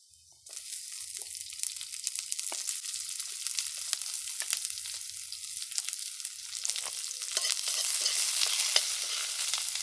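Onion fries in a pan over a wood fire, giving a loud, continuous bright sizzle that starts abruptly and carries on alone, with crackles and stirring scrapes throughout.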